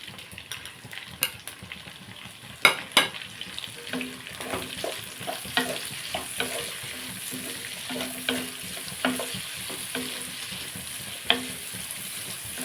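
Onions and green chillies sizzle in a pan for a dried-shrimp curry with sesame cake, with cumin added, giving a steady frying hiss with scattered stirring clicks and scrapes throughout, close and fairly quiet, with no talk.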